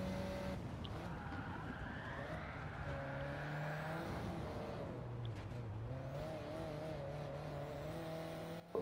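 Racing cars lap a circuit in Gran Turismo 7, engines whining and shifting pitch as they accelerate and brake, with tyre skids and passing cars, steady and moderately loud, no speech.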